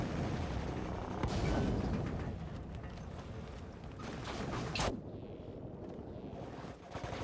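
Gunfire and explosions roll on without a break in the sci-fi shooter Dust 514, a dense, rumbling battle din with a sharper crack near the end, heard faintly at low volume.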